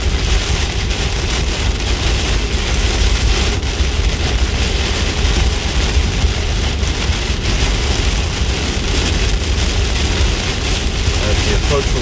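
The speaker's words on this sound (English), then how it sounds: "These monsoonal rains come once a year, and when they come, we know they're here." Heavy monsoon rain in Las Vegas pounds a moving car, a dense, loud, unbroken hiss of drops on the roof and windshield with faint engine hum and tire noise beneath it.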